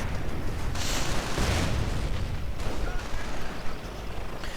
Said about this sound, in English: Grenade on the Volksgrenadiers.